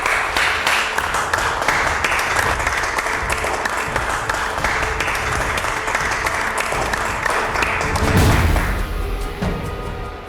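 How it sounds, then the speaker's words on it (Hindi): Applause from a film crew on a set fills the scene, dense and steady for about ten seconds. Near the end it swells briefly with a low thump before it fades. "क्या बात, तालियां।"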